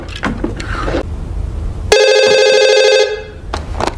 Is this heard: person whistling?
no